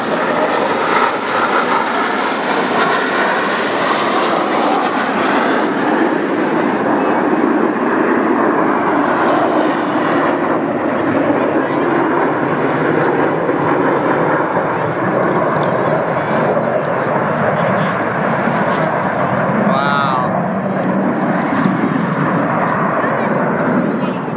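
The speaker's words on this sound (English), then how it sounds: "What do those airplanes say? What do they sound like?" Blue Angels jets roaring overhead at a Boeing air show, a loud, sustained broadband engine roar that swells and fades as the aircraft pass.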